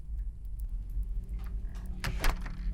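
A door handle clicks and a door swings open and closes again, faint and close in a quiet room, with a short louder clatter near the end, used as a horror story sound effect.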